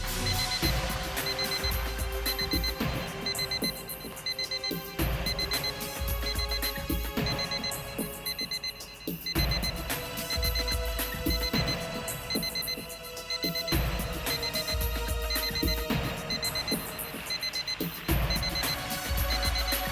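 An alarm on a bomb rings loudly and continuously, repeating its ringing bursts in a steady cycle.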